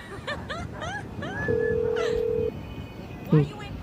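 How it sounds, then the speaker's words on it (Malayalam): A phone in a video game dials a taxi driver, a quick run of keypad tones followed by a steady one-second dial tone and another short tone burst, with someone speaking in between. "ടാക്സി ഡ്രൈവറിന് കോൾ ചെയ്യുന്നത്"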